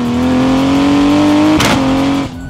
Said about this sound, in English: The shifts are aggressive, instant, and head-turning.